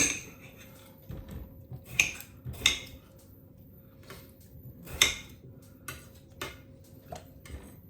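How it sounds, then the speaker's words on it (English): A knife roughly chopping a potato on a board in a home kitchen: irregular, sharp close-up thunks and clicks spaced a second or so apart, with faint kitchen rattles between strokes. "Now we're going to get our potato and just roughly chop it."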